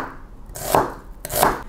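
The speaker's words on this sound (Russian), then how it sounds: "нарезаю его полукольцами" A knife slices a red onion into half rings with two distinct cuts, each a crisp crunch followed by a tap on the surface below, heard up close.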